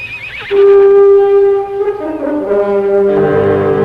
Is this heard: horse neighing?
yes